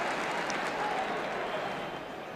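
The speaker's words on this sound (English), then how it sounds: "So Coventry coming off, generous round of applause for him." Football stadium crowd in 1978 giving a substituted player a generous round of applause, a broad distant wash of clapping and murmur that fades slightly toward the end.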